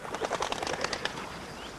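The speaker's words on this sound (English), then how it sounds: "Wood pigeons make a noisy clatter of wings when they're disturbed." A quick burst of loud wing clatter as a disturbed wood pigeon takes off, flapping sharply for about a second before fading.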